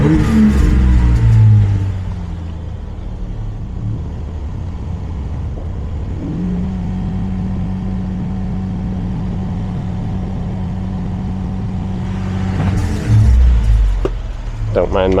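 A Sprinter van with a 3.0L V6 OM642 diesel revs up loudly, then settles into a steady drone with a rattling wastegate, and revs again near the end while someone talks over it.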